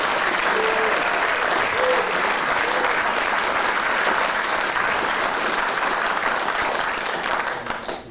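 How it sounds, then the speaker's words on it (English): An audience gives sustained applause at a US Army Adjutant General Corps Hall of Fame induction ceremony. The dense clapping stays loud throughout and tapers off at the end. "please join me in another round of applause for the entire class and members of the Adjutant General Corps Hall of Fame class of 2021"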